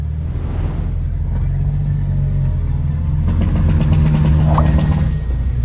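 A Volkswagen Gol Turbo car engine rumbles and revs up, a steady low drone that swells as it accelerates, heard close with no talking.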